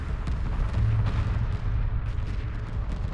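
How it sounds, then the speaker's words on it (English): In the space strategy game Homeworld, frigates and other spaceships trade weapons fire as a dense, continuous rumble of booming shots and explosions. The barrage is loud and sustained throughout, with no clear gaps. "Light fire confirmed."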